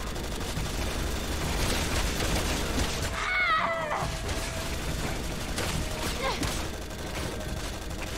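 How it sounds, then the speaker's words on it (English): Rapid bursts of gunfire in the video game Resident Evil 6, a dense sustained barrage of shots filling the scene, with a brief metallic clatter partway through. "Where are they shooting from?"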